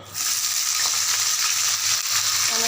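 Bitter gourd pieces fry in hot oil in a pan, a steady close sizzle with faint stirring scrapes throughout.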